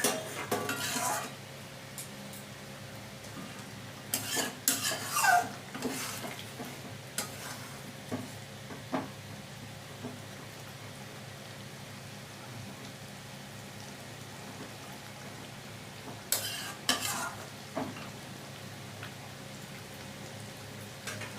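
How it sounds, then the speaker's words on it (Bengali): Fish roe fritters dropped into a boiling curry, with bursts of utensil clatter and bubbling at the start and again near the end, separated by a long quieter stretch of low simmering. "এবার মাছের ডিমের বড়াগুলো দিয়ে দিচ্ছি।"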